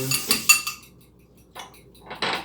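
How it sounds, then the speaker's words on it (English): A whisk clinks against a hot pan while proteins are mixed with salt and pepper, a few short metallic scrapes separated by brief pauses. "Get a good whisk. Mix all those great proteins together"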